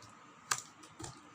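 Two sharp keystroke clicks on a computer keyboard, separated by about half a second, while C code is typed for an addition operation; a quiet room tone sits between the strokes, with no talk.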